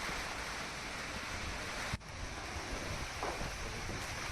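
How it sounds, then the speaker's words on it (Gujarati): Strong gusty wind roars steadily during a sudden evening storm in Bhavnagar, buffeting the microphone with a loud continuous rush and a brief dip midway. "ભારે પવન ફૂંકાતા ભાવનગરમાં ધૂળની ડમરીઓ ઉડી"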